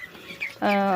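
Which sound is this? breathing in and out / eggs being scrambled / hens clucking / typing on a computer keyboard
hens clucking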